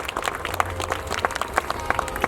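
Crowd at an Indian Police Force event in Delhi claps for real-life police heroes, a brief burst of sharp, uneven hand claps, fairly close, lasting around two seconds.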